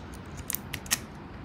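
Keys clinking in hand while unlocking a UES two-way paddle handle lock, a few sharp metallic jingles close by over a low steady room hum.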